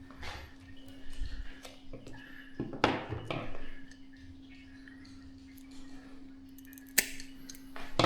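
Wires of a universal wiring loom cut during an engine-management install in a Mazda RX-8, a few sharp close snips and handling clatter spread over a steady electrical hum, with a loud click near the end.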